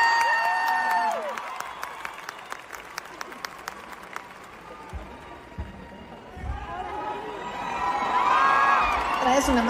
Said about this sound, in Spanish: Lo recibimos con un aplauso, mi amor.